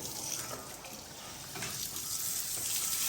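Water runs while sacrificial livestock are being washed, a steady rushing gush that grows slightly louder and closer toward the end, with no talk over it.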